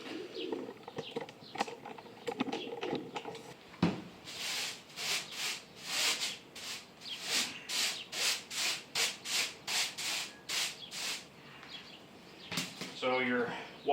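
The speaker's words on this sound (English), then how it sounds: "So I'm going to go ahead and I'm going to slide those in." Wire rack floor and pan slid into a brooder: scraping and rubbing metal for a few seconds, then a steady series of rhythmic rasping slides, ending with rattling clatter, close up with faint talk.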